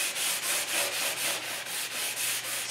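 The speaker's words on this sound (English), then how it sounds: "So you just want to lightly sand." Steady back-and-forth light sanding of painted wood, about ten even strokes in a regular rhythm, close and moderately loud.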